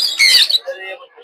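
Pet birds at a bird market in Mirpur let out a sharp, loud squawk that fades into softer chattering calls, close and brief.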